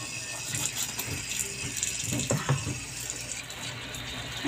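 Running water from a tap while a poodle is bathed, a steady moderate splash with a few clanks and handling noises in the middle.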